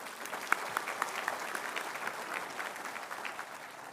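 A graduation audience claps for an architecture graduate, a steady, moderately distant applause with a few sharper claps standing out, fairly quiet overall.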